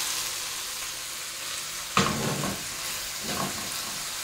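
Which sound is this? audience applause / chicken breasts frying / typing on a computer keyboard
chicken breasts frying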